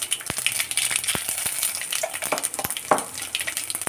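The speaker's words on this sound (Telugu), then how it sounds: "జీలకర్ర, ఆవాలు పోపు మీద వేసుకోవాలి" Cumin and mustard seeds, with dried red chillies, spit in hot oil for a tempering. Sharp, scattered pops and crackles burst over a close, steady sizzle, with no talking.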